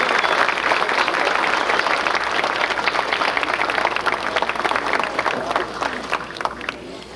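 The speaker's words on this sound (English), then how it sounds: "Give them a round of applause" A large audience at a Grenadian nurses' ceremony applauds continuously, dense clapping close and loud that tapers slightly toward the end, with some crowd murmur mixed in.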